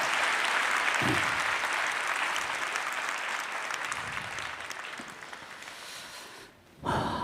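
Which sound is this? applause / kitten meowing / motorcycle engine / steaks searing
applause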